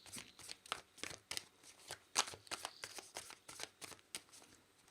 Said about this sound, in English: I'm going to shuffle this again for you